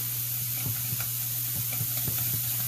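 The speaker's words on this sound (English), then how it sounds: "And I'm going to give that a good stir." Corn browning in a pan while being stirred, a steady low sizzle underneath scattered soft scrapes and taps of the utensil, fairly quiet and close.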